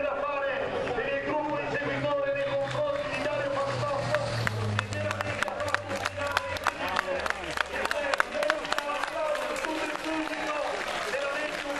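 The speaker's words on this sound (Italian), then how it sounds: "Applauso di tutto il pubblico, veramente un grande applauso per Dario Bastotto" Applause and crowd noise from spectators at a motor race hill climb, the 66th Coppa Dino Diddi, with dense clapping building through the middle while an announcer talks over it.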